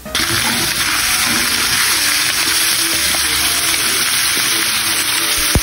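Chicken leg quarters fry in a pot for biryani, giving a dense, continuous hiss and sizzle that stays loud and even throughout, heard up close with faint stirring sounds and no talking.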